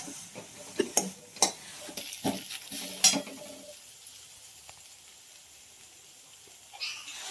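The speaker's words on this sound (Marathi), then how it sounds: "चांगलं आता ही ना परतायला लागले मी तुपात." Pumpkin being sautéed in ghee for pumpkin kheer, with a spoon stirring and scraping the pan in quick strokes over a soft sizzle that settles into a quieter, steady fry.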